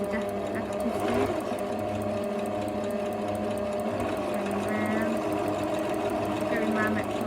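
A sewing machine top stitching a straight seam around a tote bag, a loud, close, continuous rapid mechanical whir with a steady needle rhythm running the whole time.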